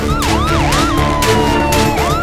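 A wailing emergency siren with rising and falling sweeps for an animal ambulance in a children's cartoon story, loud and close with no talk over it.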